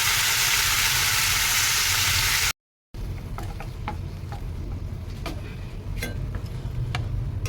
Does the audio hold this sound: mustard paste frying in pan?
yes